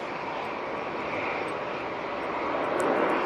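An Emirates A380 airliner going around in tricky conditions, a steady broadband engine roar swelling gradually louder at a moderate distance, with no voices.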